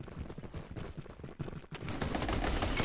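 AK rifle fire in a VR shooting game, with rapid bursts of sharp, crackling shots that swell into a dense, louder stream of gunfire toward the end.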